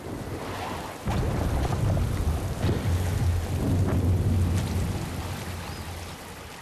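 Steady heavy rain pours throughout, with a low rumble of thunder swelling in the middle before easing off; no voices.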